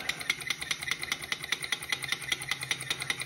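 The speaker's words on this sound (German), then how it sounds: "Der Stirling-Motor." Small Stirling engine running in a physics demonstration, giving a fast, even mechanical ticking of roughly seven beats per second, close and steady with no talk.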